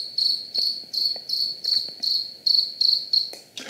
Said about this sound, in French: j'ai intégré simplement le son d'un grillon champêtre